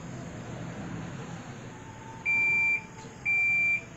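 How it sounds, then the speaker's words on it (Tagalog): A washing machine signals the end of its cycle with two loud, steady electronic beeps about a second apart, each lasting half a second, over a low background hum. "nag-zero na po siya at may narinig tayong alarm"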